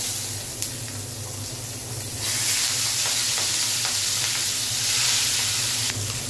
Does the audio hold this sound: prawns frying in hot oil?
yes